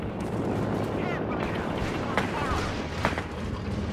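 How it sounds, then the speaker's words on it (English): Artillery barrage in the real-time strategy game Company of Heroes 3, a dense continuous rumble of distant shell impacts and gunfire with a couple of sharper blasts standing out, heard under game voice chatter. "Artillery barrage on the way!"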